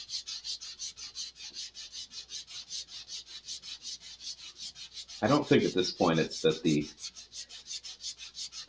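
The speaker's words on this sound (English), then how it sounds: "the more you sand, the less effective the sandpaper is going to be" Sandpaper rubbed back and forth over a part of an Estes Black Brant XII model rocket, a steady fast rhythm of dry scratchy strokes close up, with someone briefly talking over it near the end.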